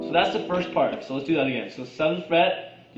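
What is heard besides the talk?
No everyday noises stand out.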